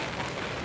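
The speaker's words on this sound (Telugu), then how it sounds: "వాన చూడండి బాగా పడుతుంది" Heavy rain falls steadily in Tokyo, a dense, even wash of noise that is close and fairly faint, with no voices.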